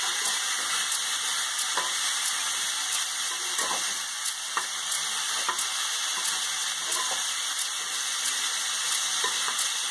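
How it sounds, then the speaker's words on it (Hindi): Cauliflower sabzi fries in a pan with little oil and spice, a steady close sizzle running the whole time with light scrapes and taps from stirring scattered across it. "इसको चलाएं, अच्छे से मिक्स करें।"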